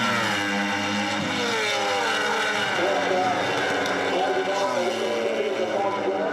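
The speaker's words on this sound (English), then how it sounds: "You can just hear those screaming BMWs after the drone of Jones's cross-plane crank Yamaha in line 4 went past in the lead" Racing motorcycles roar past on a circuit's main straight, the droning cross-plane crank Yamaha in the lead and high-pitched screaming BMWs and Ducati V4s following, engine notes sweeping and rising continuously and loudly under a commentator's voice.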